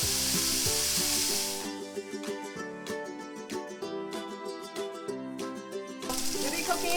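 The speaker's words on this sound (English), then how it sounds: "you can also start cooking your bacon. Now that our bacon's going" Bacon sizzling and frying in a pan on the stove, a steady crackling hiss running throughout with spattering pops, alongside faint tonal background music.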